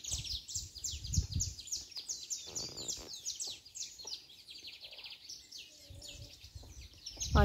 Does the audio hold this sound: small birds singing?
yes